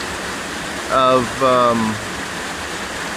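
Waterfalls at Los Azules near Tequila send up a steady, broadband rushing roar that runs the whole time, with someone speaking briefly over it near the middle.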